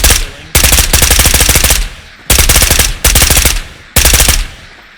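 Gunfire in Ghosts of Tabor, four loud close bursts of rapid automatic fire, each lasting about a second with short pauses between them, no talking.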